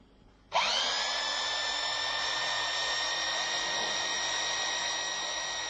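A vibration test machine starts abruptly and runs on, shaking a bolted wheel nut with a loud, steady high-pitched buzzing whine that holds constant after the sudden onset.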